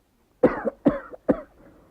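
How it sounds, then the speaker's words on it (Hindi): Three sharp, close coughs in a radio drama from Karachi, evenly spaced about half a second apart and each followed by a short rasp, then a faint breath trailing off. "पहले खांस लो फिर जवाब देना।"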